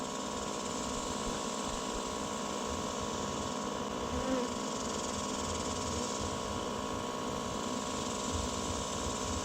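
Honeybees swarming toward their queen inside a hay baler outdoors, a dense, continuous buzzing drone from many bees close by, steady and loud throughout with no talking.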